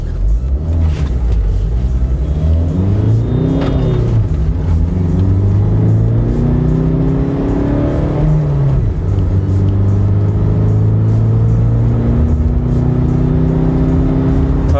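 Tata Safari Storme SUV accelerating hard from a standstill to 100 km/h, the engine revving up through the gears with rising whine, brief dips at each shift, heard from inside the cabin, loud and steady with no talk.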